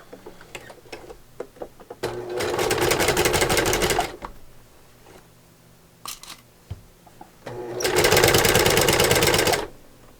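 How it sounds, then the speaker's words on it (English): A sewing machine stitches quilt pieces together for a baby quilt in two loud, close bursts of rapid mechanical chatter, each lasting about two seconds, separated by quiet clicks and fabric handling. "we're going to sew them together"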